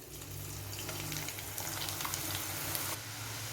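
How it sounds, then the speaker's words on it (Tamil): Rolled rice flour seedai dough balls fry in hot oil on a high flame, giving a steady, dense bubbling hiss that holds evenly throughout. "இப்போ உருட்டி வச்சுருக்க மாவை எல்லாத்தையும் வந்து எண்ணெயில் சேர்த்துக்கலாம்"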